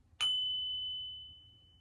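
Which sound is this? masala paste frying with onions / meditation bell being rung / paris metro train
meditation bell being rung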